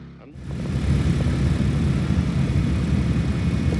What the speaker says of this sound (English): So, this is the Snow Joe snow shovel. It's not even a snow blower. It's a snow shovel. It's a simple cordless 24-volt battery.